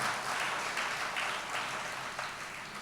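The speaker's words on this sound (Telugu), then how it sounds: "చప్పట్లు కొడితే యేసయ్యకి స్తోత్రాలు." Church congregation applauding, a dense even round of clapping heard at a distance and fairly faint.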